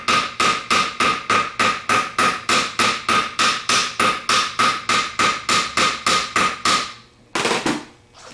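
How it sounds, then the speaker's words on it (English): A hammer taps around a rivet on a vintage Chrysler starter in a steady, rapid series of about twenty sharp, ringing metal strikes, close up, then a brief pause and a couple of scraping knocks. "Then we're just going to take a hammer and gently tap all the way around it."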